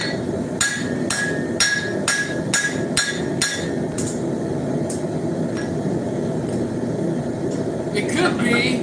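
A hammer forging horseshoe steel on an anvil beside a forge that is still heating, a run of about eight sharp ringing strikes in a quick, even rhythm, then a few scattered blows and some clinking near the end.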